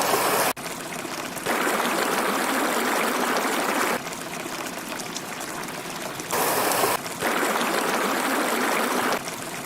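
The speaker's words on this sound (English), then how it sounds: "I'll go with water too, because it's definitely bubbly." Bubbly water recorded as a sound effect sample, flowing and trickling steadily and loud, broken into repeated segments with short cuts between them.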